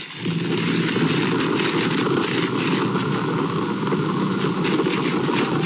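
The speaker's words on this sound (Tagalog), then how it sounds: "lakas oh, lakas ng agos." Strong floodwater current rushing through Marikina, a loud, steady roar of churning water that continues without a break and stays close.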